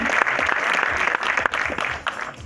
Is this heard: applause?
yes